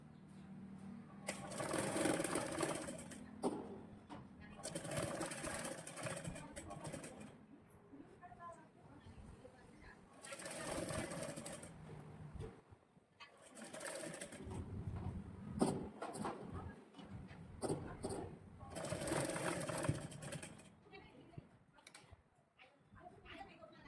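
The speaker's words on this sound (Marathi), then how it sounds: "आता शिवून घेते मी अर्धा इंच. शिलाई लॉक करायला विसरायचे नाहीये." Domestic sewing machine stitching a half-inch seam on a tube blouse, running in several steady bursts of mechanical whirring with short pauses between, close and fairly quiet, while someone talks.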